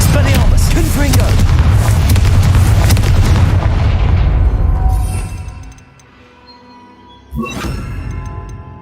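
Confringo blast spell exploding in Hogwarts Legacy, a loud continuous barrage of booms that fades away, then one more sharp blast near the end, close and powerful.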